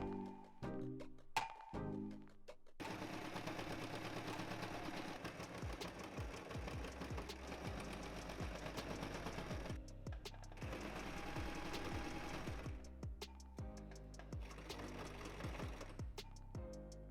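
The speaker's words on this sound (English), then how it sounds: "I'm going to just make sure I push it right in so I can sew it with the machine" A sewing machine stitching a heavy shell-shaped cushion runs in a steady fast mechanical whir for most of the time after a few short starts, close and alone with no talk.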